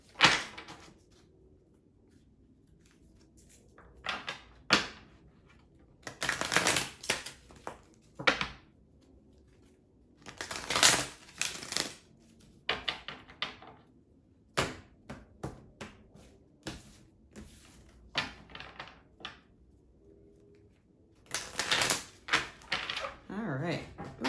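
A deck of tarot cards being shuffled on a table in repeated bursts of crisp riffling and slapping, separated by quiet pauses.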